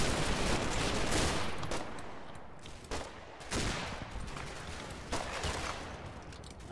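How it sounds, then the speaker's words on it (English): Gunfire in Combat Mission: Battle for Normandy: dense, loud volleys of rifle and machine-gun fire crackle continuously, with sharper bursts punching through around the second, third and fifth seconds. "at least we're getting some fire down on the Bren team up here now"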